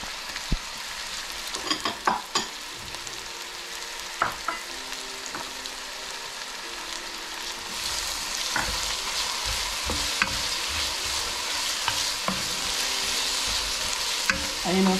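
Red and green bell peppers with onion fry in a pan for chicken soup, with a steady sizzle and repeated spoon scrapes and clacks as they are stirred, close and alone with no talking.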